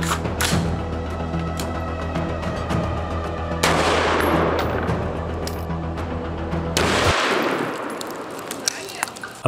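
A rifle fires 223 NATO rounds into resin body armor, sharp loud reports with a ringing, clanging impact and reverberant tail, followed by a few small clicks near the end.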